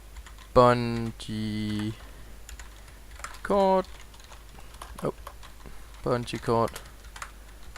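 Fingers tap out short bursts of clicks on a computer keyboard while someone talks over them. The keystrokes are light and come in scattered clusters between his phrases.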